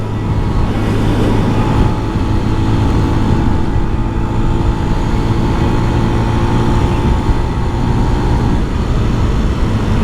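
A small motorcycle engine drones steadily and loudly at a constant pitch, with wind rushing throughout.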